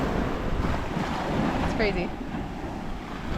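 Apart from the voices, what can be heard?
ocean waves at Libanuna Beach, Fort Dauphin, Madagascar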